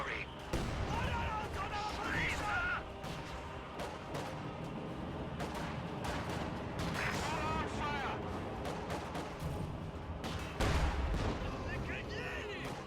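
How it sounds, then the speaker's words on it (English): In a WWII real-time strategy game, a heavy mortar and artillery fire in dense repeated booms and cracks amid battle noise, mixed under a commentator's steady talking. "Heavy mortar keeps taking shots at infantry as well."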